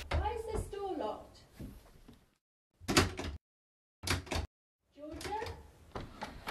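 Locked door being tried in a short film: short bursts of rattling and knocking at a door handle, separated by silences, with a person calling out before and after.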